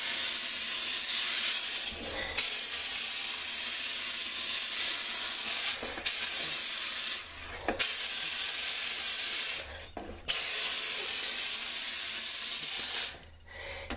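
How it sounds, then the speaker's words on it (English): A steam cleaner blasts dirt out of baseboards with long, loud, steady hissing bursts, each a few seconds long and split by short pauses, close up. "It will steam all of that dirt out of there."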